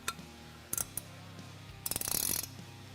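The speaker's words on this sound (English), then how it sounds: "Let's go ahead and fully tighten these." Ratchet wrench fully tightening the bolts of a winch fairlead plate while installing a 3,500 lb Black Ops Series winch on a Kawasaki Teryx KRX 1000, heard as a few quick clicking bursts, the last one longer and louder, no talking.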